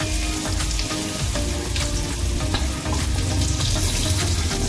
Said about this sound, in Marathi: तेल गरम करून घेऊ. तर आपण आता पहिल्यांदा कांदा टाकूया.